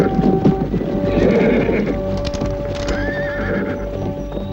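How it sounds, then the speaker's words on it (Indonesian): Several horses carrying a group of about ten riders gallop close by with steady clip-clop hoofbeats, and loud neighs and whinnies ring out over the rumble, in a period colossal film. "ada 10 orang naik kuda sedang menuju kemari"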